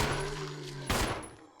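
A burst of gunfire from Chris's weapon in the Resident Evil (2002) remake, starting about midway as a sharp crack with a short rumbling tail over steady game background tones, fairly quiet overall.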